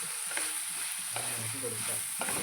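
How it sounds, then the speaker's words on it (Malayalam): Jackfruit curry stirred in a pan: a low sizzle under a steady high hiss, with a few brief scraping stirs, close and faint, and no talking. "നല്ല രീതിയിൽ ഒന്ന് ഇളക്കി കൊടുക്കാം"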